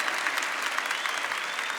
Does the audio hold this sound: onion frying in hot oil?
no